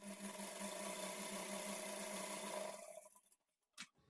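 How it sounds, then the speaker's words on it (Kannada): A sewing machine stitching a blouse lining piece with a quarter-inch margin, a steady close mechanical whir that runs for about three seconds and then stops, leaving quiet and a few small handling clicks. "ಈ ಪೀಸ್ ಅನ್ನ ಈ ತರ ಇಟ್ಕೊಂಡು ಒಂದು 1/4 ಇಂಚ್ ಮಾರ್ಜಿನ್ಗೆ ಸ್ಟಿಚ್ ಮಾಡ್ಕೊಳ್ಬೇಕು."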